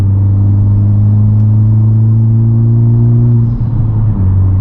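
A 2021 Honda Civic Type R fitted with a MAP exhaust in R mode, its engine giving a steady, loud, deep drone with a smooth held rev that shifts slightly near the end, close and alone.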